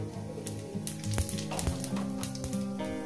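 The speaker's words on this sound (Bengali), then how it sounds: "তেলটা আমার গরম হয়ে গেছে। একটু জিরে ফোড়ন দেবো, সামান্য একটু জিরে ফোড়ন দিলাম" Cumin seeds crackling and sizzling in a small amount of hot oil, a steady close sizzle with sharp pops and spits scattered throughout, alone without voices.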